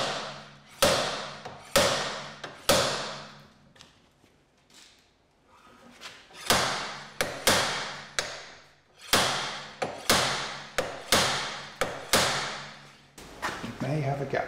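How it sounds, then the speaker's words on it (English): Slide hammer pulling a front wheel hub bearing on a Dodge Grand Caravan, a series of sharp metallic impacts in bursts of three or four, close and loud, with a brief quieter pause midway. "we've got this slide hammer, and you pull it back, creates the impact here"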